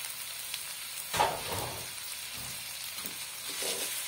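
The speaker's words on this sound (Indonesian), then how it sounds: "Ditumis terus aja sampai dia agak sedikit" Cauliflower stir-frying in oil, a moderate, close sizzle with a sharper burst of frying and stirring near the start, then a steady crackle continuing quietly with no speech.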